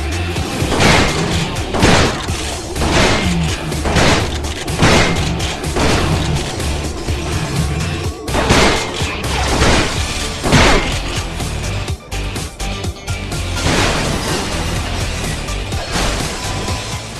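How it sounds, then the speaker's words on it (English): Red explosions in the Ratchet and Clank Future video game burst repeatedly as loud booming crashes and thuds, roughly one every second or two, stacked densely over continuous game noise with no talk. "Well, his explosion is red now."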